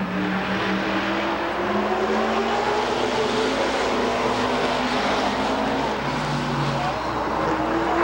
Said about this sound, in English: Top passes, green flag, let's go racing